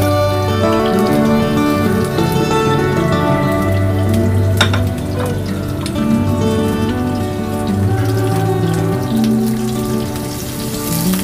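Green chillies sizzle and crackle in hot oil in a pan, with a steady, loud frying hiss over the full stretch and a few brief clinks partway through.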